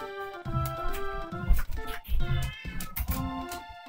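A cat meowing in a cat video game, a string of drawn-out, tonal meows, some rising into whiny caterwauls, loud and close with little else around them.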